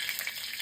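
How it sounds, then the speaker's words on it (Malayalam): Crushed ginger crackles in hot oil after mustard seeds, fenugreek and curry leaves, a brief close burst of dense sizzling without any voices. "ഇഞ്ചി ചതച്ചത്, നല്ലവണ്ണം ഒന്ന് മൂപ്പിച്ച് കൊടുക്കുകയാണ്"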